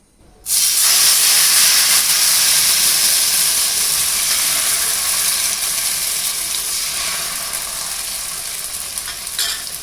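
Ragi dosa batter hits an oiled pan with a sudden loud sizzle that stays strong and steady, slowly easing as it fries, with no talking.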